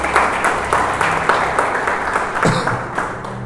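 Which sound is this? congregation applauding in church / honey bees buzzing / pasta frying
congregation applauding in church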